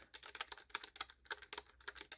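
Rapid typing on a loud computer keyboard bought from Amazon, with stiff, hard-to-press keys; the clacky keystrokes tumble out in quick, uneven bursts, close up and with nothing else behind them.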